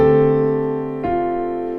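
A piano plays a sustained chord, then a quick grace note crushes into a lower F that rings out over the held harmony.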